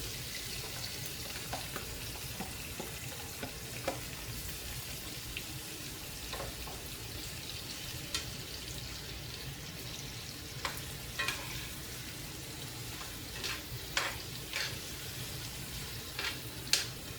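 Steady sizzling of chicken frying in a pan for goulash, with scattered small clicks and scrapes of a utensil, close and moderately loud.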